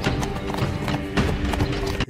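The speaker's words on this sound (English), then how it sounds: "Really out here riding this horse." A ridden horse's hooves clip-clop in a steady, close rhythm, with faint talk underneath, in The Witcher video game.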